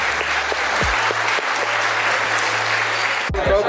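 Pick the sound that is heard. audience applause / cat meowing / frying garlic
audience applause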